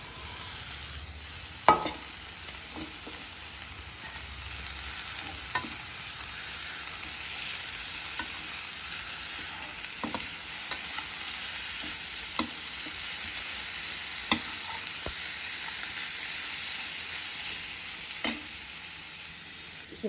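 Cluster beans and coconut fry in a pan with dried red chillies and chilli powder, giving a quiet, continuous sizzle broken by a few sharp stirring clicks and scrapes.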